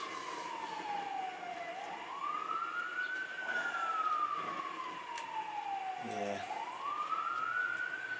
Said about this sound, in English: There go the fire engines.